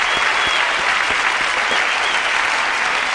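Audience applause in a live comedy hall, a dense continuous roar of clapping with faint cheering mixed in, steady and loud throughout.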